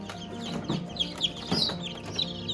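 Day-old chicks cheep in shrill, rapid bursts as they are lifted into a brooder on a farm, a steady chorus of close peeps with a few louder calls standing out.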